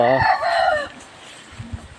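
A four-month-old young rooster crows once, loud and close, then the yard falls to quiet rustling with a couple of soft clucks.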